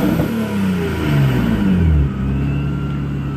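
A supercharged Infiniti G35 engine revs up to a full rev, its pitch climbing to a loud peak, then falling back to a steady idle, heard close by without talk.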